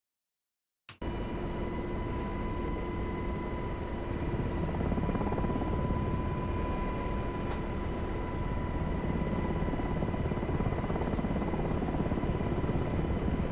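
An Apache helicopter hovers with a loud, steady rotor and turbine drone that starts abruptly and holds a constant whine and rumble throughout, with no voices.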